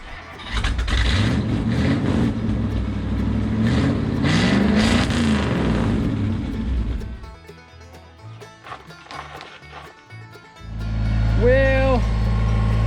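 An old Lincoln, abandoned for four years, comes back to life: its engine labors and roars after the first start, cuts away to rougher, uneven running, then swells loud again near the end.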